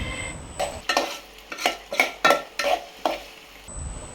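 Onion and tomato fry in a pan, with about seven distinct bursts of stirring and scraping sizzle at a steady rhythm over a quiet background, and no talking.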